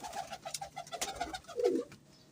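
A pigeon coos nearby in a soft rhythmic series of low throaty notes, ending in a longer rolling coo, faint and alone.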